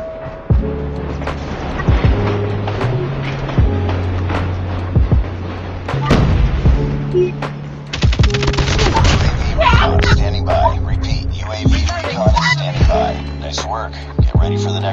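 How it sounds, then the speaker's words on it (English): Bomb detonating in a video game match, a deep booming blast among repeated heavy thuds, slams and bursts over a low rumbling game soundtrack, with loud impacts scattered throughout. "Bomb dropped."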